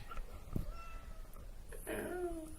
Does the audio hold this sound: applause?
no